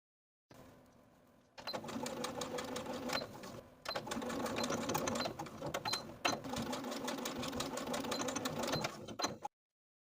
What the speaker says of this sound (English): I'm going to stitch in the ditch at the shoulder seams on both sides from the outside of the garment